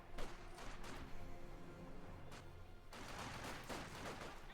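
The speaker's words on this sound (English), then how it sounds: "So we're shooting back and forth here" Distant, quiet rattling gunfire exchange between battling infantry squads in the Company of Heroes 2 strategy game, with dense overlapping bursts that continue almost without pause.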